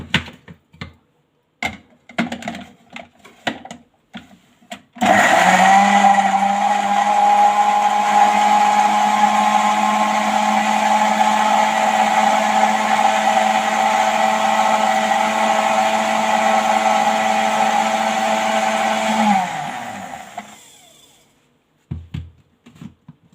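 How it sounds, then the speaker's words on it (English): A blender whirs loudly for about fifteen seconds, mixing coconut water with juice, after a few short clicks and knocks; the motor stops abruptly and a couple more taps follow. "No need to keep running and cleaning the blender"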